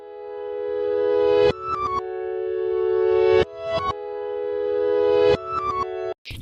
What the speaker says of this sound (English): all we're going to do is right click it and reverse it. Now listen to the melody.